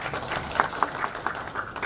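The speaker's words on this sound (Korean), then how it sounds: "큰 박수를 부탁드립니다" Audience applause at a political party meeting, a crowd clapping steadily with sharper individual claps standing out, brief and moderately loud.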